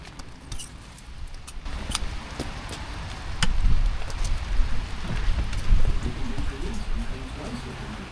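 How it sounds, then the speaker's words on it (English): Steady rain patters on a greenhouse during a downpour, a dense hiss of drops with scattered louder taps and a few thumps, swelling midway and continuing throughout. "It's raining outside."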